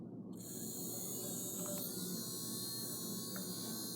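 Mini working toy hairdryer switched on, a faint steady high-pitched motor whine with a low hum that runs continuously after a short start, with a couple of small clicks.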